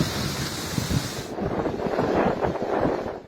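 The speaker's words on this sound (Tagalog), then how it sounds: "Humahambalos din ang hangin sa bayan ng Santa Praxedes." Strong typhoon wind gusting over the town of Santa Praxedes during a supertyphoon, a loud, steady broadband roar that keeps blowing without pause, with heavy buffeting noise on the microphone.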